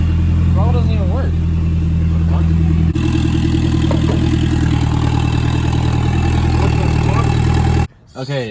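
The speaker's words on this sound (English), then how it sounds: "we started the car and it was just like idling completely fine" A car engine fitted with a cheap aftermarket turbo kit idles steadily, a close, loud low drone with a slight change in tone partway through before cutting off abruptly near the end; a voice briefly speaks over it.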